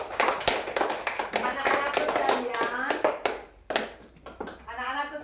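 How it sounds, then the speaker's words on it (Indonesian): A class of children claps hands together during a religious studies lesson, a few uneven bursts of clapping mixed with lively chatter and a speaking voice. "Ya, tepuk tangan dulu"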